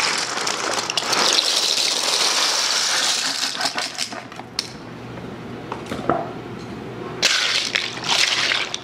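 A pound of dry, uncooked pasta shells pours into a crock pot, a steady rattling cascade of hard pieces striking the pot and each other, followed by scattered clinks and a second burst of pouring.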